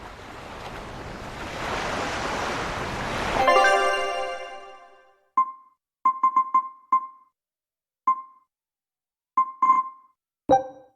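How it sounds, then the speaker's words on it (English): Ocean waves in the video game Tales of Berseria wash and surge steadily for several seconds, swelling before they cut off, followed by a series of short, bright chiming tones spaced irregularly in near silence. "we're safely on the rolling waves"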